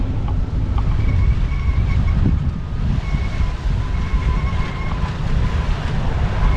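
Large ocean waves slosh and churn around a wooden fishing boat at sea, a continuous loud, rough wash with low rumble and faint tonal hum from the boat's engine.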